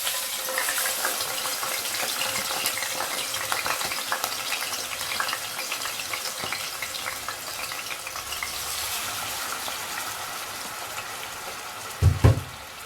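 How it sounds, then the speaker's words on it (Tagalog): Fish fillets sizzle steadily in hot oil in a pan, a constant crackling hiss with small pops, ending in a couple of sharp clatters near the close. "When the pan is ready, we will now cook one by one our fish."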